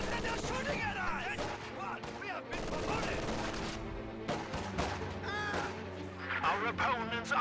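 MG42 machine gun fire and other gunfire crackle through a busy video game battle between Grenadiers and conscripts, with bursts overlapping one another and dense, loud combat effects throughout.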